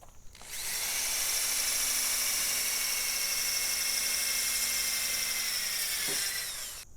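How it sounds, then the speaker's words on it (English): Drill fitted with a 3M sanding pad whirs steadily against a car headlight lens, a high, even whine running for several seconds close up before spinning down. "trying to keep the drill really straight as we go around the lens"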